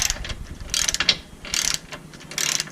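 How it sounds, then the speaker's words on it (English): Clicking ratchet action while loosening suspension bolts on a Subaru BRZ / Scion FR-S / Toyota GT86 during a lowering spring install, three short bursts of rapid mechanical ticks, close and moderately loud. "See, taking these bolts out is really easy. Just need a breaker bar,"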